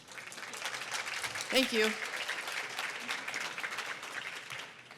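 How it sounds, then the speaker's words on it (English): Audience applause fills a conference hall at a science meeting, a steady wash of many hands clapping throughout, with a single voice briefly speaking a short thanks over it partway through. "If we could give her another round of applause."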